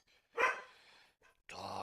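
A dog barks twice up close: a sharp loud bark, then after a brief pause a longer, more tonal bark, with quiet moments between them.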